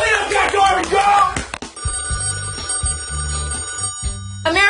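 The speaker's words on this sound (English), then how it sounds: "America, do you hear the phone?" A telephone rings repeatedly inside the Big Brother house, a steady pulsing electronic trill that follows a burst of loud, excited voices and carries on alone at moderate volume.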